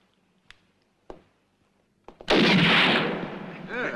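A single gunshot in a sharpshooting contest set in a Western, a loud sharp blast with a long rolling tail, preceded by a few faint clicks and taps.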